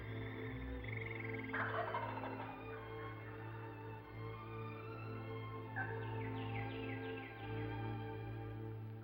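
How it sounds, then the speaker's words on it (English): Wild turkeys on an early spring morning, several rapid rattling gobbles bursting out in turns over a steady low background hum, moderately close and clear. "Early spring mornings are especially a time of great activity, gobbling, strutting, and displaying."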